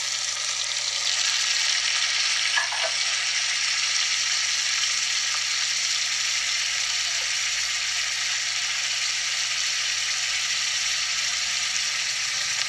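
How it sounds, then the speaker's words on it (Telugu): Tomatoes fry in a pan for an aloo dish, giving a steady, even sizzle close by that runs unbroken throughout, with a couple of faint clinks. "తర్వాత టమాటాలు వేసుకోవాలండి"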